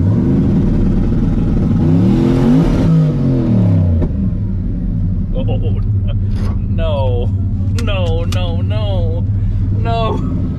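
A turbocharged LS-powered mega truck engine revs hard and loud for a few seconds with a rising and falling whine, then settles into a rough idle rumble under excited talking.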